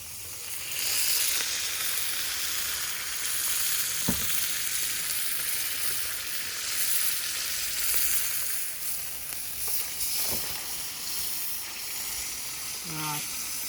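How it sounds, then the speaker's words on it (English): Fat frying and sizzling in a pan while crisping, a steady loud hiss throughout with a few brief clicks and a short tonal scrape near the end; no talk over it. "Not always easy when you're frying, but you can hold it up into the fat"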